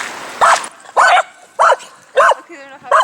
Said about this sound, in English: We found a little dog park.